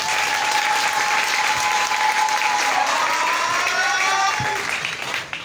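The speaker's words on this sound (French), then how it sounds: "vous inviter à applaudir pour ce monsieur" A crowd at a prize-giving ceremony for top students in Lolodorf applauds steadily and loudly throughout, with dense clapping that carries on evenly before tapering slightly at the end.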